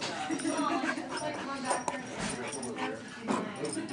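A dog whimpers and yips in short, high, restless bursts close by, mixed with voices talking in a home.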